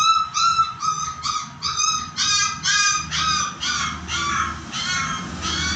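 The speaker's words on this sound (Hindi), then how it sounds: "यह एक पिल्ला सर्दी में मेरे सामने चिल्ला रहा है" A puppy out in the cold cries loudly and close by, letting out a steady run of a dozen or so high, wavering whimpers and yelps one after another over a low background rumble.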